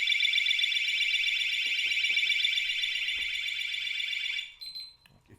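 Overflow alarm on an osmosis water tank sounds as the tank fills, a loud, continuous high-pitched electronic tone with steady pulsing, holding for about four seconds before it cuts out amid a few small clicks.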